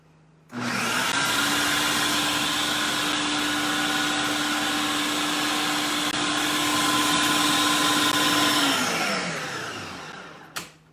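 A Ninja blender blending hummus roars steadily at high speed for about eight seconds, then winds down and stops with a small clunk at the end.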